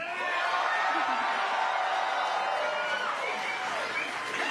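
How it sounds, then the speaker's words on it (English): Firefly team members cheering after the Blue Ghost lunar landing, a steady continuous crowd roar of shouts and whoops that stays loud and even throughout, with voices mixed in. "Oh, listen to them cheering."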